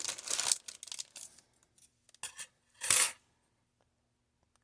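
Packaging from a Globleland haul being unwrapped, with a few short crinkling and rustling bursts of plastic or paper close by, separated by quiet gaps.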